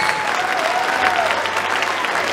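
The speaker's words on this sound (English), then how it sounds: "have a huge round of applause for our wind ensemble" Steady, full applause from a crowd at a high school winter concert honouring the wind ensemble, continuous and even throughout with a faint whistle or tone briefly audible over it.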